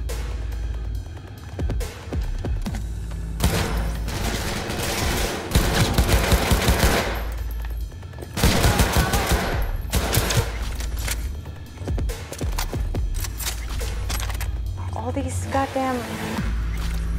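Rapid automatic gunfire in Cyberpunk 2077 rattles in long loud bursts with heavy low booms, broken by short pauses, while a voice talks over the shooting.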